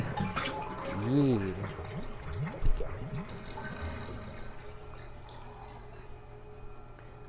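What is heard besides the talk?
water draining from bathtub after pulling plug, Resident Evil video game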